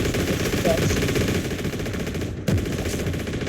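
Sustained machine-gun fire rattles through a match of the Heroes and Generals video game, loud and continuous with a brief break near the end, layered over game ambience.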